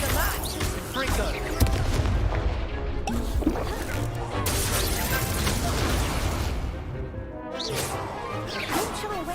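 Confringo explosion spell cast in the Hogwarts Legacy video game, heavy whooshing blasts and crashing impacts layered over dense combat effects, with a voice speaking over the action.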